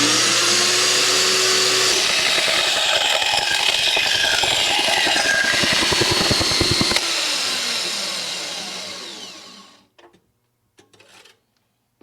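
A Vevor corded saw cuts through exhaust pipe with a loud, close grinding whine that rises and strains, then winds down and fades to silence, followed by a few faint clicks.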